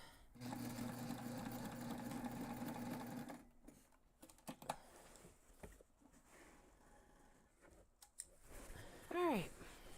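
A sewing machine hums briefly while stitching a backpack side seam, a close, steady mechanical run that stops after a few seconds, followed by handling clicks and rustles as the fabric is moved.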